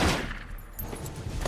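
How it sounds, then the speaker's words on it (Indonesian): Rapid gunfire from an action movie scene crackles in a dense, continuous burst, loud and close, filling the short moment with overlapping shots and no clear gaps. "ada suara tembakan"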